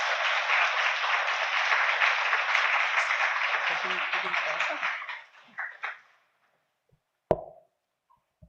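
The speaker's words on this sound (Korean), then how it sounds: "김옥순 교수님 나오실 때 큰 박수로 한번 환영했으면 좋겠습니다" Big welcoming applause for a guest professor at a Korean Sunday afternoon church service, loud and dense for about five seconds, then tapering into scattered claps, silence, and a single sharp knock or thump near the end.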